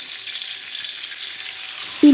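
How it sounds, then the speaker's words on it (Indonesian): Blended spice paste sautéing in a little oil, a steady soft hissing sizzle throughout, close by, with a brief tonal clink or stirring sound right at the end. "ini aku mau tumis bumbu yang udah di blender tadi. Ini pakai minyaknya hanya sedikit aja ya."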